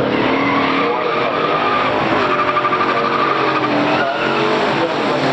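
Tires of a 1970 Chevrolet Chevelle 454 LS6 and a 1965 Pontiac GTO scream as they lose traction off the line at a pure stock drag race, a loud continuous squeal over roaring engines lasting several seconds.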